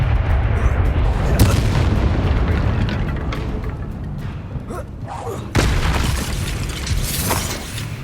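Bombarda spell blasts in Hogwarts Legacy combat, heavy booming explosions with a sharp crack near the start and another strong burst later, amid ongoing battle noise and a shouted voice.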